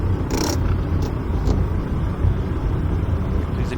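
Mercedes-Benz Sprinter van engine in the bus simulator game OMSI 2, a loud, steady low rumble at idle with automatic clutch, running continuously and close with no talk over it.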